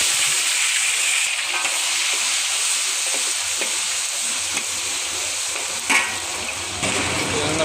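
Onion and tomato frying in leftover oil for a dried anchovy sambal, making a loud, constant hiss and sizzle with occasional scraping stirs and one brief clatter, heard up close without talk.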